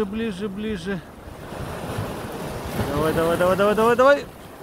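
Sea waves wash onto the shore under a voice urging someone closer, with a steady roar of surf and wind noise on the microphone throughout.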